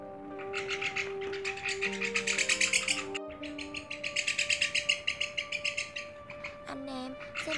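White-winged migratory starlings used as a trapping lure call in loud, close, continuous bursts of bright whistles and rapid chirps, with steady tonal notes running underneath.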